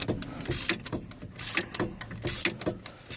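A ratchet wrench takes a bolt off a Trailblazer front wheel hub, producing bursts of rapid metallic clicking in several quick pulls, loud and close.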